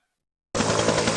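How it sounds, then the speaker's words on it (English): A helicopter's rotor chop begins abruptly after a half-second of silence, a loud, close, rapid beating thump that continues steadily. "helicopter, helicopter,"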